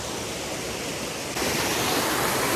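Steady, full broadband rush of a forest waterfall near Karkala, roaring continuously and growing slightly louder partway through, with no voices.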